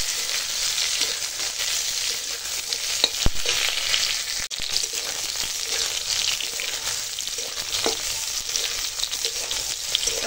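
Pointed gourd frying in oil in a wok, in the same pan just used for prawns, makes a loud, close, continuous sizzle broken by a few sharp clicks and spatters. No voices.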